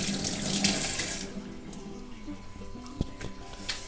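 Tap water runs steadily into a sink as sand is washed off sea crabs for a Konkan-style crab curry, a continuous splashing rush with brief handling knocks toward the end.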